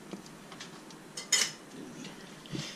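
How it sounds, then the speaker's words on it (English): Metal tongs clinking against jars and metal while handling freshly pressure-canned green beans, a few faint light clicks with one sharper clank near the middle, quiet surroundings. "Handy dandy tongs of doom."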